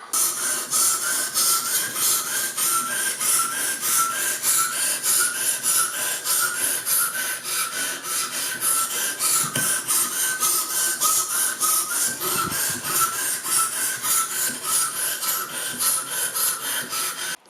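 Knife being sharpened on a Ruixin Touch Pro RX-009 sharpener, a continuous rhythmic rasping of the stone stroking back and forth along the blade, close and fairly loud, without any voices.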